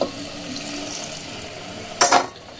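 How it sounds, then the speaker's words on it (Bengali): Water is poured into a pan of simmering chana masala curry: a short, splashy rush near the end, louder than the quiet kitchen background before it. "এই যে এখন দিয়ে দেবো দেখুন আমি জল"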